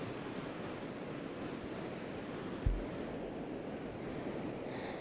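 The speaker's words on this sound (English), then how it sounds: "the river is still flowing under the icy surface" Fast-flowing river running beneath ice at Hukou Waterfall in winter, a steady broadband roar of rushing water with wind, and one brief low thump partway through.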